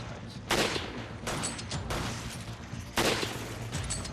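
Gunfire in Resident Evil 5 as shots are aimed at parasites, with bursts of loud, close shots in a dense volley, the strongest blasts landing around the start and near the end.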